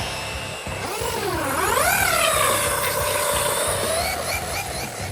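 A Traxxas Funco 2WD RC car at full throttle on ice gives a high electric motor whine that sweeps up steeply, then holds a steady loud pitch before easing slightly.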